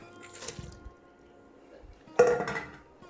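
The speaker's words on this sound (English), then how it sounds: "Add the beef." Beef is tipped into a pot of pureed, simmered chilli, with two brief metallic clanks and scrapes of utensil against pot, separated by near silence.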